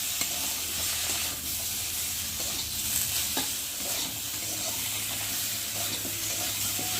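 Malabar spinach and vegetables cooking with salt and turmeric sizzle steadily in a hot pan, a continuous close frying hiss with occasional soft stirring scrapes throughout.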